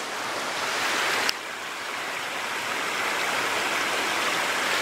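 Water from a pond pours over a small dam in a steady, rushing waterfall roar, continuous and close, with a faint click partway through.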